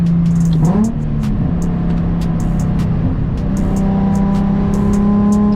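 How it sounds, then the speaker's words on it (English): A Nissan 350Z HR engine with a full single-exit exhaust hums steadily from inside the car on a winter drive, its exhaust note shifting pitch as it revs briefly, then settling into a smooth drone. "I love how this car sounds"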